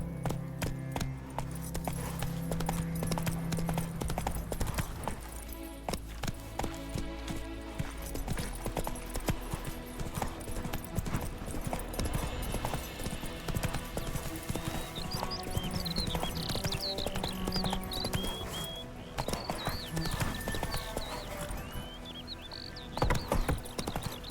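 Horse hooves clip-clop in a quick, steady galloping rhythm in The Witcher 3: Wild Hunt, continuing throughout with occasional whinnies and a faint tinkling game score underneath.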